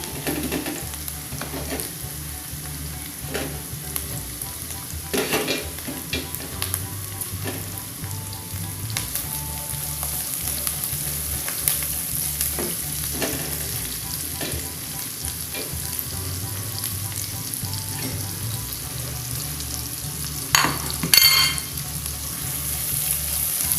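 Garlic frying in a pan for oxtail soup, stirred now and then, gives a steady close sizzle with scattered scraping spoon strokes and a louder clatter near the end; no voices.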